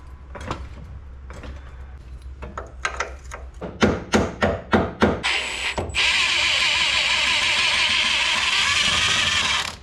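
A Duramax truck differential being raised toward its mounting studs: a run of sharp ratcheting clicks quickens and grows louder, then gives way to a steady, loud mechanical whir.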